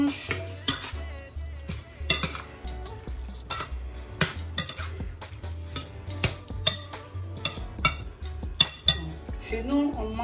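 Fretins and sorrel are stirred in a pot with a metal spoon, giving repeated sharp knocks and clinks against the pot over a soft simmer. The strikes come at an irregular rhythm, close and distinct, with no voices.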